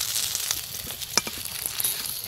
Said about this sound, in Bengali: শোল লাটা একটু কড়া করে ভেজে